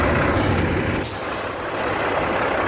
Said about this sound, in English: they got a nice truck though